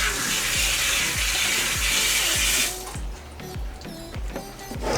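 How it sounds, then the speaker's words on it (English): Tap water runs steadily and loudly close by as hands are washed in a kitchen sink, the hiss of the stream dropping after a few seconds into softer splashing and rubbing. "Make sure you wash your hand properly."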